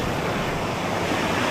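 Sea waves roll in at high tide along a beach with cottages, a continuous loud wash of surf mixed with wind noise on the microphone and no talk.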